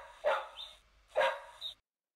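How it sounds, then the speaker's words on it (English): A farm dog in a children's animal-sounds read-along gives two sharp barks about a second apart, each trailing off with a brief yip. Both are close and clear, with no other sound. "When Rusty barks"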